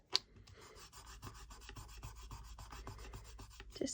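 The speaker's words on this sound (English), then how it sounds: "Just going to rub over it." Rubbing over a glitter card while crafting a Snow White dress card gives a soft, continuous scratchy friction sound that runs steadily throughout, close and quiet, with a sharper tap at the start and at the end.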